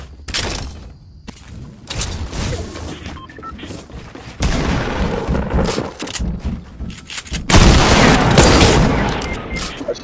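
Pump shotgun blasts in Fortnite gameplay, loud booming shots and heavy bursts of game combat noise, dense and continuous with sudden surges in intensity, no clear talking.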